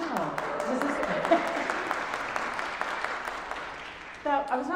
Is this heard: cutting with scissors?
no